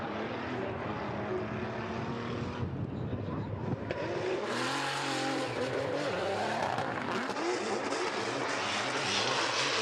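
An E92 BMW drift car screams around Suzuka during a Formula Drift Japan event, its engine wailing and shifting in pitch with tyre noise, loud and close, while a commentator talks over it.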